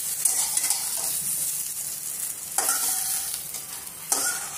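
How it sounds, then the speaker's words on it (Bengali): Okra (ladies finger) fries in hot oil in a wok for a Gujarati-style dahi bhindi, giving a steady close-up sizzle broken by a few louder stirring scrapes and no talking. "ভেন্ডিগুলো 3 থেকে 4 মিনিটের মতো ভেজে নিতে হবে।"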